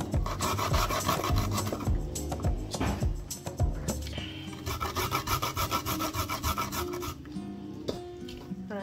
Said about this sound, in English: You're gonna take your time because you don't want to get cut by the grater.